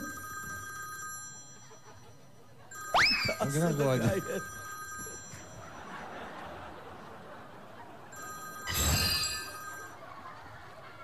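A telephone bell rings in a short burst, then again a few seconds later, with people talking and chuckling softly nearby.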